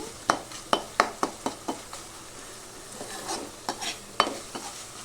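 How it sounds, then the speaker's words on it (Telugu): Tomatoes frying in a pan for a fish curry, with a run of sharp scraping and stirring knocks over a steady sizzle, loud and close, then softer stirring and one more sharp scrape. "టమాటో అయితే వేగింది."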